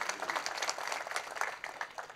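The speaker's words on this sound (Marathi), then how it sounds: "ही त्यांची टाळ्या तरी मोठ्यानं वाजवा" Audience clapping at a Hanuman Janmotsav kirtan, a brief burst of scattered applause from a crowd heard alone at moderate loudness.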